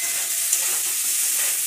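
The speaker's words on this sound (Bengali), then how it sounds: "পেঁয়াজটা লাল লাল করে ভাজা হচ্ছে" Onions sizzle steadily in a pan, a close, continuous bright hiss of frying with no pauses.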